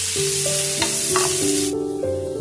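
Sliced onions sizzle hard in a hot pan while being stirred, a dense, loud, steady frying hiss with faint tonal sounds underneath, dropping off abruptly near the end.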